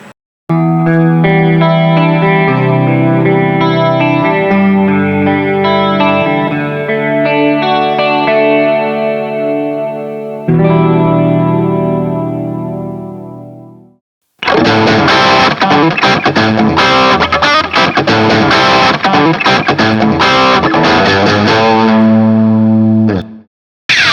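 A distorted Sonic JT electric guitar plays sustained chords and riffs, pausing briefly midway before returning louder and denser, with heavy effects and echo.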